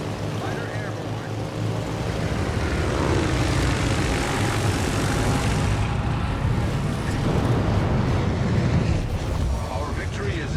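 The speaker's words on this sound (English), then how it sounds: "Fighter airborne." Aircraft engine drone from a fighter plane launched in the naval battle game World of Warships: Legends, a steady continuous roar under game sounds and waves, with a synthetic voice announcing over it.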